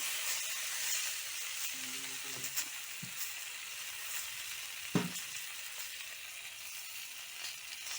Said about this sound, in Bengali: 10 মিনিট ধরে ভালো করে লাল লাল করে পটলগুলো ভেজে নেব